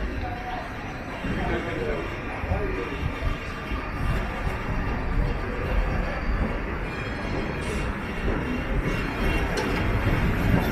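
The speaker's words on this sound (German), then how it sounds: "Kleine Straßenbahn fahren hier lang." Small trams rolling along a city street in Vienna near the State Opera, a steady rumble and rattle of rail wheels mixed with traffic and street noise, with people talking throughout.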